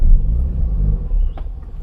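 Toyota Starlet turbo car on a road test after a service, giving a steady low engine rumble close by, with a brief higher whine near the end.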